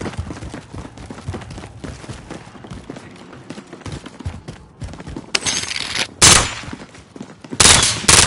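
After a low, rumbling stretch, a volley of gunfire rings out in several loud, sharp bursts close together near the end, each one abrupt and cutting through the background.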